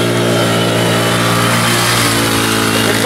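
A quad bike engine revs hard during cross riding, a loud, close, continuous buzzing drone with strong harmonics that holds steady and slightly shifts in pitch throughout, with no voices.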